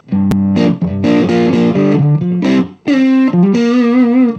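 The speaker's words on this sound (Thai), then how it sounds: "จะมีเสียงแตกเข้ามาด้วยเนาะ" An electric guitar played through a Fender Champion 100 amp on a distorted British-style setting, short melodic phrases with gritty, buzzing sustained notes and brief pauses between runs.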